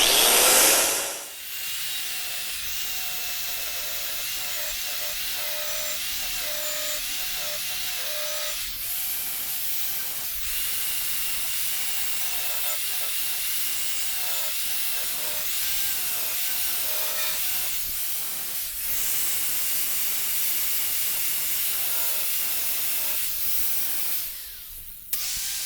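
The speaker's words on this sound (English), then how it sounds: "let's get that blade sharpened up" Honda HRR216 lawn mower blade being sharpened with a power tool, a loud continuous high-pitched grinding whine broken by short pauses and restarts, close up and alone.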